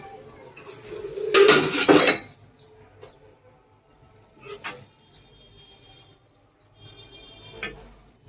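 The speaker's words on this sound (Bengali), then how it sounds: "এখন ডালটি আমি অন্য একটি পাত্রে নিয়ে নেব।" Metal pots and utensils clatter loudly in a burst near the start while cooked lentils are moved into another pot, followed by a few fainter clinks and scrapes spaced apart, close by with no talking.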